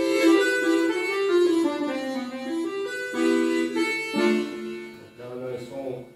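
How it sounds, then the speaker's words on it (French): A digital accordion voiced with accordion registers plays a sustained, reedy melody line over held chords, loud and close, running continuously for several seconds with no talk. "Donc bien sûr, on a des sons d'accordéon."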